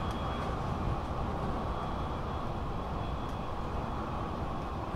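A regional express train in Train Simulator on the Karlsruhe–Strasbourg route pulls away and runs along the track, giving a steady low rumble and hum of wheels and motors, moderately quiet and unbroken throughout.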